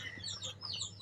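A hen laying eggs gives soft, faint clucks and brief calls, quiet and close, with no talking.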